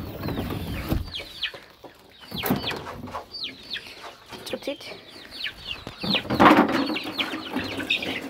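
Clucking and short calls from a five-month-old rooster of the Pepela breed in a small animal-keeping setting, near and moderately loud, scattered across the stretch, with brief speech at one point.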